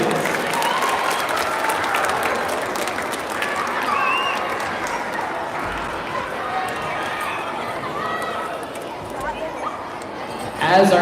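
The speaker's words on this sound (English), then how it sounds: "Give them another very big round of applause, please." A school arts showcase audience gives a long round of applause for elementary first graders, with broad, steady crowd clapping, cheering and murmuring throughout and a louder swell at the very end.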